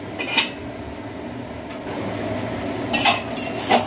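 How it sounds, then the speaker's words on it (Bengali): Ground poppy seed paste being stirred into ridge gourd and potatoes in a pan for jhinge aloo posto, soft scraping with a few sharp spoon-on-pan clinks near the start and end over a faint sizzle. "বেটে রাখা পোস্ত পোস্তটা দিয়ে একটু নেড়ে দিলাম"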